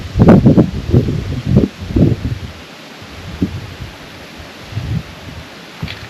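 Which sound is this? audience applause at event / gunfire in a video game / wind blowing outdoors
wind blowing outdoors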